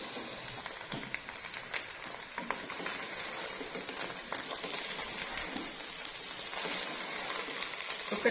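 Kachnar buds and beef frying in a pan with masala, a steady soft sizzle and crackle at low volume, continuous and without talk.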